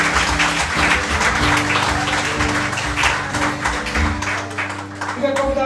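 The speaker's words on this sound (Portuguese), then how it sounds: "Dê uma salva de palmas ao Senhor" A church congregation claps and applauds together in a sustained burst, mixed with organ or keyboard tones and voices under it throughout.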